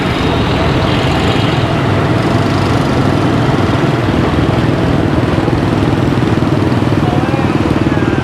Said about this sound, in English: Motorbikes, motorbikes, motorbikes.